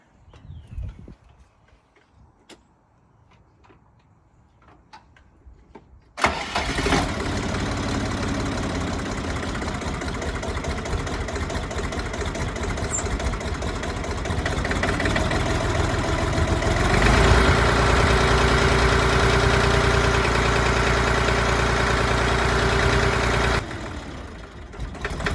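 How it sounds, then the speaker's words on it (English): A Siromer 304 tractor sits quiet at first with a few small knocks, then its diesel engine catches and settles into a loud, steady rhythmic idle that grows a little louder before cutting off near the end. "So away you go Orion, start it up."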